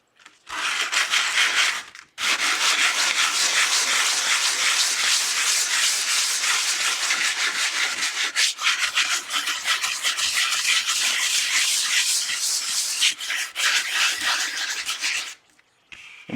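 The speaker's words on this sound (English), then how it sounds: "I'm just going to lightly sand." Folded sandpaper rubs lightly across a surface in a long, continuous run of close, steady hissing scratches, with a short pause near the start, and no talking.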